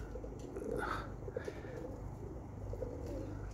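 Roller pigeons coo softly at a little distance, a few low calls against steady outdoor background noise.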